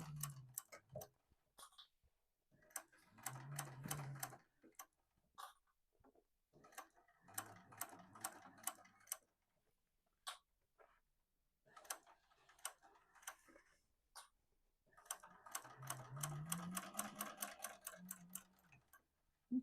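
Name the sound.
sewing machine stitching a sling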